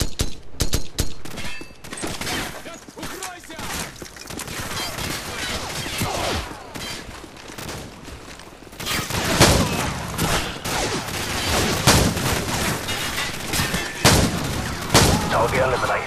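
Heavy gunfire in the video game Call of Duty Modern Warfare, dense bursts and volleys of automatic weapons with booming impacts throughout, loud and sustained with battle chatter mixed in.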